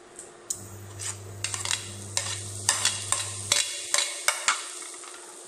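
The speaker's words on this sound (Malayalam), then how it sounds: "നമുക്കിതിലേക്ക് ചെറുതായി കട്ട് ചെയ്ത് വെച്ചിരിക്കുന്ന ടൊമാറ്റോ ചേർക്കണം" Chopped tomato added to a paneer masala pan, stirred with a metal spoon that scrapes and clinks against the pan in a steady series of sharp knocks, over a low sizzle of frying that fades after a few seconds.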